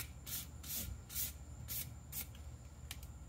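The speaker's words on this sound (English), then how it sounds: "So you sand just a little bit just to smooth it out." Sandpaper rubs over curb rash on a Tesla Model 3 Uberturbine wheel in a series of about six short rhythmic strokes, close and fairly quiet, with no talking.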